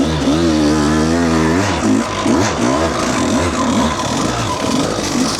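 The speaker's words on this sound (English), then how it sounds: "Okay, see, electric start." A 2016 KTM 200 XC-W two-stroke dirt bike fires up on its electric starter and is then revved hard, loud and close, with a buzzing, crackling engine note rising and falling in quick blips.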